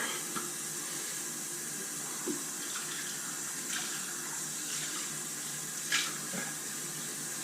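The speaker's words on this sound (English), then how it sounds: "We'll hit it with some cold water." Cold tap water runs into a bathroom sink as a steady, faint hiss with a few small splashes, with no talking.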